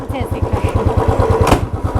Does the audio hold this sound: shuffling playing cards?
no